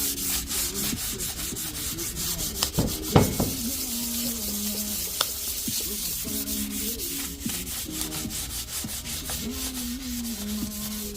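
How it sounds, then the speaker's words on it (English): Sanding acrylic-based paint on a metal pintle mount frame, with rhythmic scraping strokes repeating steadily, close and clear, broken by a few sharper knocks. "Now we're just sanding."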